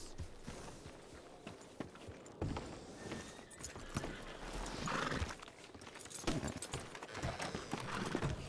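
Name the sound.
horses riding, hooves clip-clopping in a video game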